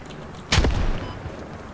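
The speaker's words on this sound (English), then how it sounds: "Grenade out." A grenade in a video game bursts with one sharp, loud blast that decays over about half a second into a low rumble, with a faint later thump against quiet background noise.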